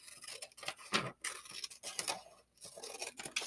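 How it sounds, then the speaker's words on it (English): Scissors snipping through paper along a line for a mini greenhouse craft, a series of quiet close crisp cuts in an uneven rhythm, heard alone. "I am going to take some scissors and I am going to cut on this line"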